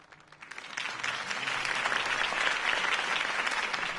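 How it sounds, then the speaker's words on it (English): Crowd applause at a political campaign rally in Batman: The Telltale Series video game, starting softer and swelling into sustained, dense clapping. "If only Mr. Wayne, my campaign's largest backer, could have heard that applause"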